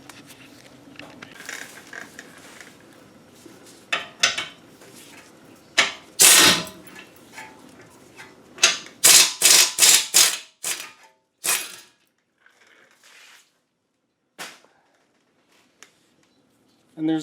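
Ratchet working the caliper carrier bolts on an Audi Q5 front brake: bursts of sharp metallic clicking and clacking, close and loud in clusters separated by quiet gaps, with quieter handling noises between.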